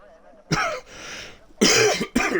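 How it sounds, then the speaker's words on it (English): Several harsh coughs in quick bursts, close to the microphone, with a rough throat-clearing sound between them. "Sorry, excuse me, coughing again."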